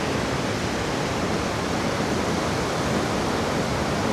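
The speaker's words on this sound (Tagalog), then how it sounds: "So nakakamangha lang tong waterfall na to" A loud, steady roar of Alid-Alan Falls running strong, dense rushing water filling the whole clip without change or voices.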